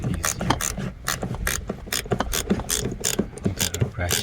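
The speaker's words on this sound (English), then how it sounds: "I gotta ratchet." A socket ratchet turns a bolt while fitting a four-point racing seat belt harness in a car, giving steady rapid clicking bursts of the pawl, close and fairly loud, with no talk.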